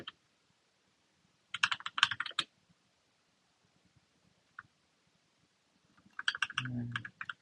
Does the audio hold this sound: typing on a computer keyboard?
yes